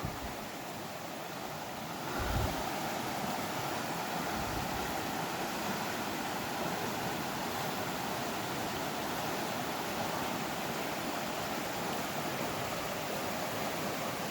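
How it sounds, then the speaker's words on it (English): A steady, full rush of flowing creek water in Cataloochee, Great Smoky Mountains National Park, constant and fairly close, with no voices, just the continuous wash of the stream throughout. "Here's the creek right behind the chapel."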